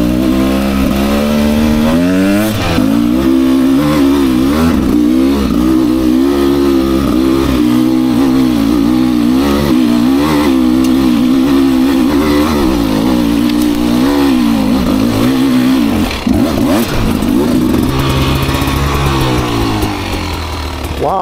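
A 2024 Beta 300 RR Race Edition two-stroke dirt bike being ridden on a steep hill trail, its engine loud and close throughout, revving and bogging with shifting pitch over twenty seconds.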